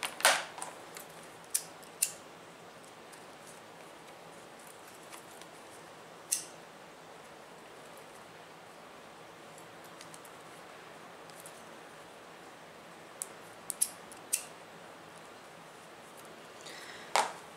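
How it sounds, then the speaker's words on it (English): Small scissors cut out a curved fabric window on an in-the-hoop wallet, making sparse, quiet snips scattered irregularly over a low background hiss. "These big scissors are really not fun to try to get in there, so the little ones work good."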